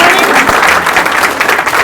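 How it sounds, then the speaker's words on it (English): Loud, dense applause from a crowd at a community action organization's annual meeting fills the room, steady and close throughout. "Well, that took care of the round of applause."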